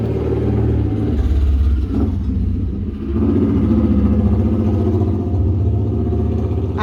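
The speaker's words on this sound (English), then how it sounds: "As this sort of motorcycle goes by." A motorcycle rumbles past nearby outside a house with boxes and planters out front, its loud engine rising and falling over several seconds.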